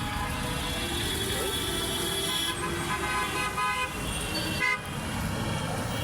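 Steady roadside traffic on the Dhaka–Mymensingh highway, a continuous engine roar with tonal car horns sounding repeatedly, loud and close, while someone speaks.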